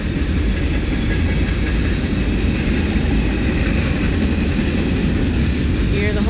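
A Canadian Pacific Railway train rumbles past near a river with a parallel highway, a steady, loud low-frequency roar and rattle of rolling cars continuing unbroken throughout.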